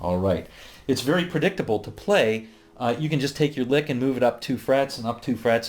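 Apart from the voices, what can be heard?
No distinct noise like a dog, phone or traffic.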